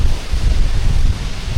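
Rushing water at a Black Forest waterfall makes a continuous broadband roar, heard close and loud with heavy wind buffeting on the microphone.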